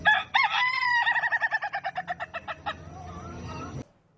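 A rooster crows loudly and close by, a long cock-a-doodle-doo with a rapid stuttering run of notes near the end, then quiet.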